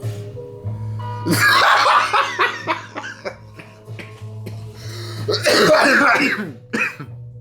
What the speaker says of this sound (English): Held the laugh back and the coughs came out.